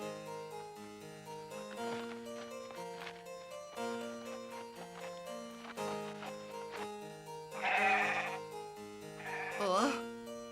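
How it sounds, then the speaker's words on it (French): A cartoon sheep gives two wavering bleats over a bed of gentle orchestral music, the second bleat close and loud near the end. "Tu as vu le mouton"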